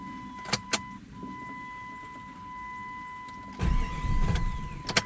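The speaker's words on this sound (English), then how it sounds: "It wants to crank back up, but it can't." A 1998 Jeep Grand Cherokee 5.9 cranks without catching, a short rough churning burst near the end, preceded by a steady electronic chime tone and a couple of clicks.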